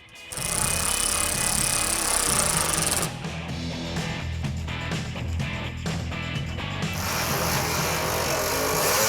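A ratchet snugging fender bolts on a '68 Dodge Charger R/T or '70 Hemi Coronet R/T, fast close clicking that starts with a loud burst, then continues in quieter bouts of clicks, without talking.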